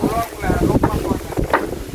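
Storm wind buffets a house in gusty roaring surges that thump against the microphone, and a voice is heard faintly amid the blasts.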